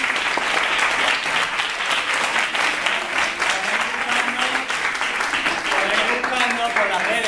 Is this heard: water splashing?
no